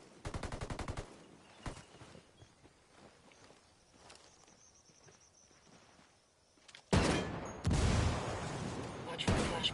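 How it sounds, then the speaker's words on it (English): Heavy gunfire in the video game Ghost Recon Wildlands: rapid automatic bursts open the clip, then scattered shots and footsteps, before loud, dense volleys return near the end. "Taking heavy fire!"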